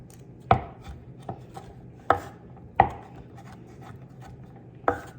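Sharp knife chops through cheese on a cutting board, five or six uneven strikes with short pauses between, close and clear, no talking.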